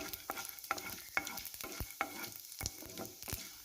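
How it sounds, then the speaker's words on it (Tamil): Mustard seeds, urad dal and chana dal spluttering in hot oil, quick irregular pops and crackles over a soft frying hiss, close and fairly quiet, with no voices. "கடுகு பொரிய ஆரம்பிச்சிருச்சு."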